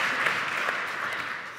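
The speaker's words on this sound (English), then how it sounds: "You can clap that" A forum audience claps in a steady, even burst, many hands blending into a continuous patter at moderate distance with no talking.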